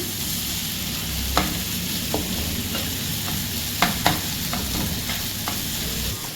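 Fish katakat is mixed in a hot pan with dry-roasted masala, a steady sizzle underneath sharp spatula knocks and scrapes that land irregularly, a few louder clacks standing out.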